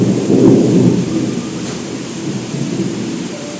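Deep thunder rumbles close and loud at the start of a heavy rainstorm, fading into a steady wash of rain falling on surfaces.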